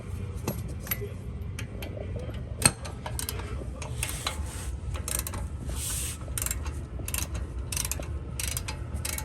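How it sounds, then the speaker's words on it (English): A ratcheting breaker bar clicks steadily while a Jeep Grand Cherokee lift kit is installed, a close run of fast metallic ratchet ticks with one sharp knock partway through and no talking. "It's like a ratcheting breaker bar."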